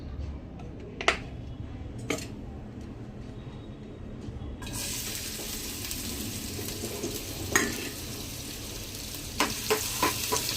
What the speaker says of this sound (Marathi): कांदा परतून घ्या